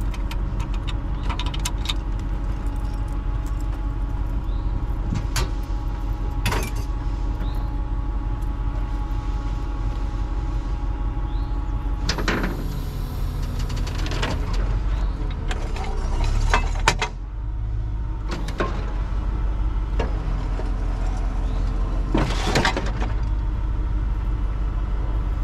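A tow truck lowers a car in a GTA game, with repeated mechanical clunks, ratcheting and winch whirs spaced out over a low engine rumble, and no one talking.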